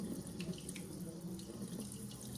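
Steady stream of tap water running into a sink to cool freshly boiled farm eggs, a continuous broadband hiss and splash at moderate level with no talking.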